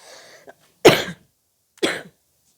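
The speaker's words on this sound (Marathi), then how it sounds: "माझी आज जरा तब्येत खराब आहे त्यामुळं खोकला पण लागलेला आहे" A woman coughing while unwell, a faint throat sound followed by two sharp, loud, close coughs spaced about a second apart in a quiet room.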